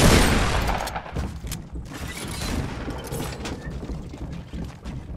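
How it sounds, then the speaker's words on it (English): Shotgun blasts and gunfire in Fortnite Battle Royale, a loud booming burst at the start followed by several sharper shots and rumbling impacts fading over a few seconds. "Like, pretty obviously I knew that was a shotgun"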